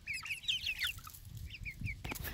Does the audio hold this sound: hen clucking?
yes